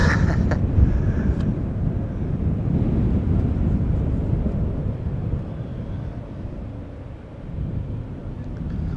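An Air Baltic airliner departs Amsterdam Schiphol Airport, a loud, broad jet rumble that stays steady, dips briefly, then rises again, with wind noise on the microphone.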